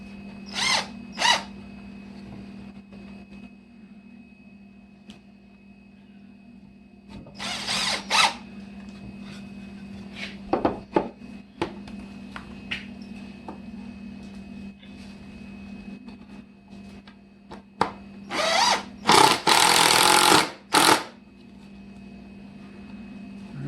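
A power drill drives screws into a kids' bed frame in a few short, close whirring bursts separated by quiet pauses, ending with a longer, louder run of drilling.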